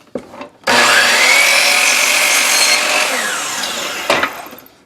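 A saw makes a miter cut through wood: one loud, close, continuous cut lasting about three and a half seconds, which trails off at the end with a few short knocks.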